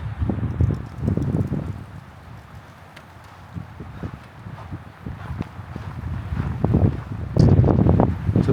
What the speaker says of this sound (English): -7 degrees out here, a little windy